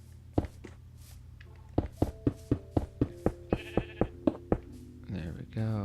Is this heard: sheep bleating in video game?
yes